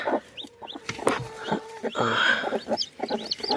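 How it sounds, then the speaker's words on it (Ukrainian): Several chickens cluck and murmur nearby, with short squawks and chirps scattered through the clip. "Кури мої кури."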